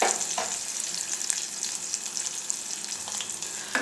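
Tempering for Rayalaseema ulava charu sizzles steadily in a pan, a continuous close frying hiss with faint crackles and no talk.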